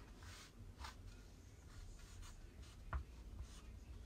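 Chalk dragged across jumpsuit fabric to mark a sewing pattern, a quiet series of soft scratchy strokes close up in a still room, ending in a light tap.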